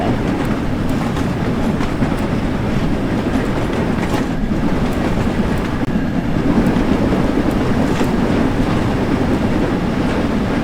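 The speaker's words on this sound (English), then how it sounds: "Perfect timing because it's a passenger train. Quite a long passenger train." A long passenger train passing near Crewe in the Train Sim World 5 game, a loud continuous rumble with rhythmic wheel clatter over the rails, sustained for the whole stretch.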